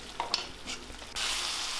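Paneer gravy with masala powder, Kashmiri chili powder and a little water boiling in a pan, giving a steady close sizzle and bubbling with brief stirring scrapes and no talk.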